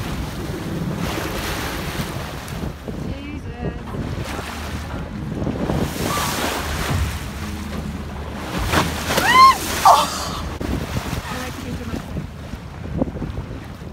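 Choppy tidal Thames water slaps and splashes continuously against a narrowboat, with strong wind buffeting the microphone and faint voices underneath.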